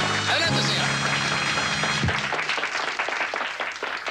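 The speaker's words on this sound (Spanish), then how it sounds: "¡Un aplauso para él!" Audience applause for a contestant on a Spanish-language TV show starts under loud music and a voice, then carries on as scattered clapping after the music ends.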